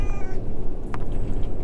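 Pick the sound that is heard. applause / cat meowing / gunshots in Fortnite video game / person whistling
cat meowing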